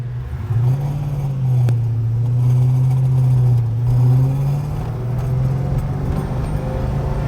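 A car engine being tuned runs at a steady idle hum, then settles into a continuous, loud drone with slight rises in pitch, close by and without talking.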